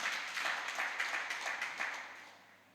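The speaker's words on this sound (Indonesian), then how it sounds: "Kasih tepuk tangan bagi Tuhan." Church congregation at a Sunday worship service applauding together, a steady wash of many hands clapping at moderate loudness that tapers off toward the end.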